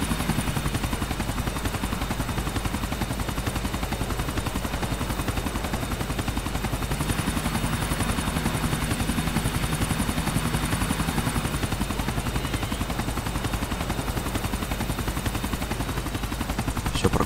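Helicopter rotor in GTA IV chopping steadily and loudly for a long stretch, a continuous close whir with faint rattling underneath and no voices.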